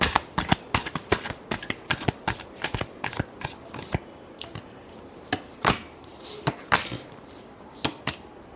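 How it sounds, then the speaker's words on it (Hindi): Tarot cards are shuffled by hand in a series of crisp, sharp riffles and slaps with brief pauses between them. The sound is close and fairly quiet, with no talking. "Last shuffle."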